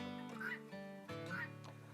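Several chickens cluck and murmur in quick overlapping calls, close by, with two louder bursts rising above a steady flock chatter.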